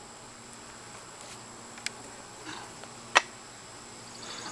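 Honey bees in an opened hive during a nectar dearth give off a faint, steady low buzz, with a few soft clicks and knocks and no talking.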